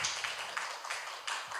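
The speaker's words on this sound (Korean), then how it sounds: "박현진 시민 기자님께도 우리 박수 한번 부탁드리도록 하겠습니다." Brief audience applause at a Korean citizen-journalist writing workshop, a short burst of scattered, fairly faint handclaps in a room.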